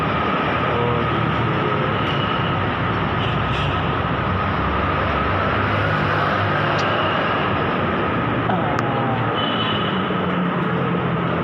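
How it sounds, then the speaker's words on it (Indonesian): Jakarta MRT train heard from inside the carriage, a loud, steady broadband rumble of wheels on rail with occasional faint squeals, running continuously with no talk. "Nah ini kita masuk MRT apa aja."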